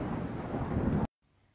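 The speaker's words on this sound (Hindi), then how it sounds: "थोड़ी ही देर बाद हरिपुर गांव में बहुत तेज बारिश हुई।" Heavy rain and rolling thunder over a village, a loud dense roar for about a second that cuts off abruptly into near silence.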